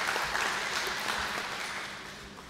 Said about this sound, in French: Applaudissez ces deux messieurs qui sont avec nous.